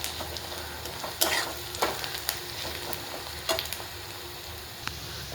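Sliced onion frying in a pan with sesame, garlic, ginger and coriander paste, a steady soft sizzle with occasional scraping stirs of a spoon, heard alone without voices.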